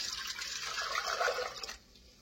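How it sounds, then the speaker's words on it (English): Water is poured from one pot into a larger cooking pot, a short splashing, trickling stream that fades out after under two seconds, close and quiet with no voices. "I'm going to pour that water into this larger pot before it really takes off"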